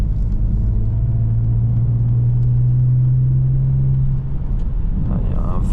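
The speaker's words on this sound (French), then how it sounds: "L'échappement pour une voiture d'origine, je trouve que ça gronde vraiment." An Alfa Romeo Brera 3.2 V6 rumbles steadily from its stock exhaust while driving, a deep, continuous drone heard from inside the cabin.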